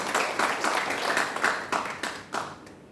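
A church congregation claps in a rhythmic, rather distant beat, a loose group keeping time with roughly three to four claps per second before fading out.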